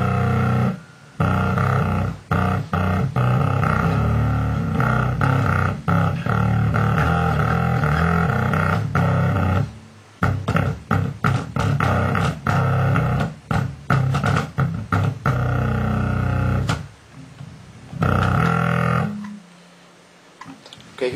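Bass guitar with its low string drop-tuned to B, played through an MXR Blowtorch bass fuzz pedal, gives a thick, roaring, heavily distorted tone in sustained notes and choppy bursts with brief pauses, loud and close.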